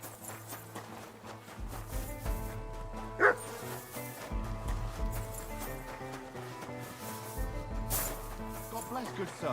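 A dog barks a few times in Kingdom Come: Deliverance II, short yelps over background music with occasional hoofbeats, one sharp bark standing out near the middle.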